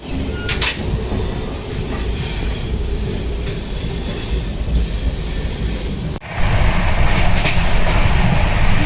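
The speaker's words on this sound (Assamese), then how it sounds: "তো ফাইনেলি ট্ৰেইনখন আহি পাল।" A train pulls into New Bongaigaon station with a loud, continuous rumble of rolling wagons and faint wheel squeal, swelling abruptly louder partway through as it passes close by.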